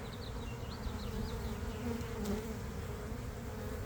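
A swarm of honey bees produces a dense, continuous buzzing drone at an apiary in early spring, steady and fairly close, with no voices.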